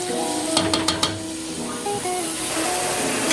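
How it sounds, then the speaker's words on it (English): Seasoning sautés in a pan on a stovetop over medium heat, giving a steady close sizzle with a few brief scrapes and clinks of a utensil stirring near the start. "I'm just gonna let this stay and saute for like about 5 minutes"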